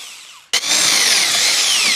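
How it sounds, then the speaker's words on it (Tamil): A power drill bores a hole into a wooden frame being made for resin art. It starts abruptly after a quiet moment and then holds a loud, steady, high whine close by, with no talking. "ட்ரில்லிங் மிஷின் வச்சு ஒரு ஓட்டை"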